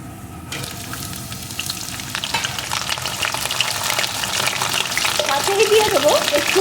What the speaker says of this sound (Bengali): আলুটাকে লাল লাল করে একটু ভেজে নেব